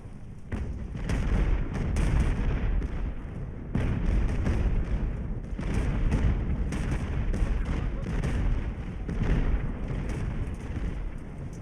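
Artillery and mortar fire sound in a naval age-of-sail strategy game, with repeated booming blasts and crackling bursts in a dense, rolling barrage.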